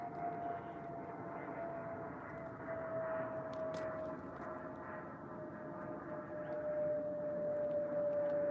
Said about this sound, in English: that's a big plane going over down to LAX